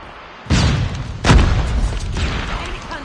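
A flashbang grenade goes off in the Call of Duty video game, two loud booming bursts about a second apart, each followed by a lingering ringing roar.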